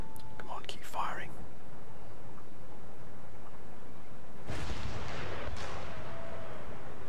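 Musket volleys and artillery fire in Empire Total War, a battlefield scene: a sharp cluster of reports near the start, a long lull, then two heavy booming blasts later, with faint voices in the background.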